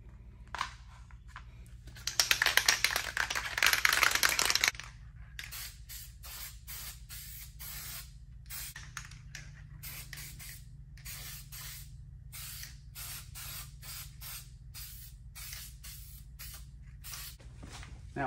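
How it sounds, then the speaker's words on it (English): Short bursts of Permatex high-tack gasket sealant sprayed from an aerosol can onto gaskets laid on cardboard, a loud hiss for a couple of seconds followed by quiet handling clicks and rustles. "I've got this Permatex high-tack spray gasket sealant, same stuff, just in spray form."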